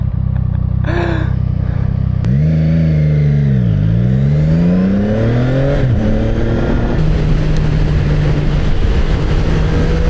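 A CF Moto 675 SR-R motorcycle engine revs hard and close, its pitch rising and falling in repeated throttle blips before settling into a steady high idle.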